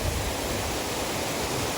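A small waterfall spills from a pond outdoors, giving a steady, close, even wash of flowing water with no breaks and no voices.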